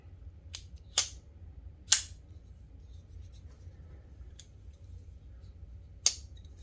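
A Fox knife blade is flicked open with its front flipper, making several crisp, sharp snaps spaced a second or more apart against a quiet background.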